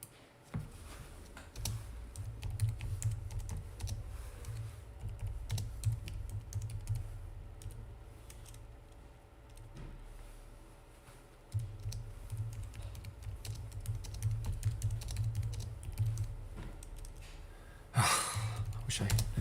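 Continuous typing on a computer keyboard during a live stock day-trading session, with steady clicking keystrokes close up, a few sighs and breaths, and a louder burst near the end.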